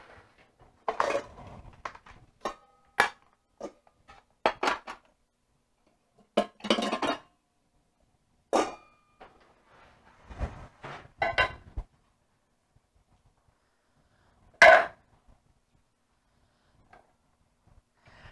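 Salmon soup ingredients being cut into cubes and a bowl handled on a kitchen counter: sparse knife taps and clinks of glass or ceramic in scattered clusters, close and clear, separated by silent gaps.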